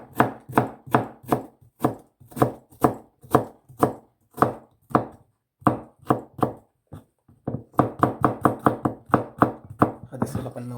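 Rapid, regular knife strokes chopping vegetables on a cutting board, close and crisp, with a brief pause before a faster burst of chops near the end.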